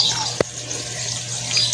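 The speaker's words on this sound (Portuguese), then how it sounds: "Botei a água, tá ligadinha, lavando roupa." Water running steadily into a washing machine filling for a laundry wash, a continuous even hiss with a low hum beneath it and one brief knock near the start.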